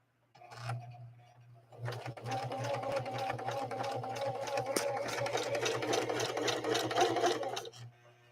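A Singer 4411 heavy-duty sewing machine stitches through two layers of vinyl, a brief whir and then a sustained, steady rapid chatter that runs for several seconds before stopping.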